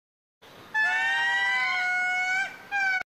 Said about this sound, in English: Lemur.